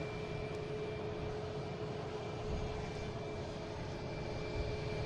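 A British Airways A380 jet rumbles past at Boston Logan, a steady broadband engine roar holding evenly throughout with a faint tonal whine, no voices.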